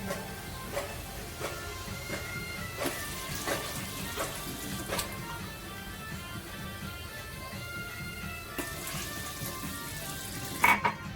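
Two glasses of water poured into a pot of crab curry with small crabs, a steady splashing, sizzling wash punctuated by a few soft clinks, close by.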